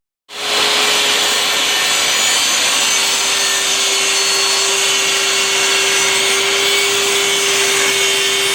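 A saw cuts a wooden cabinet door panel with a steady, loud, continuous whine and rasp that holds for several seconds without a break, with no talk over it.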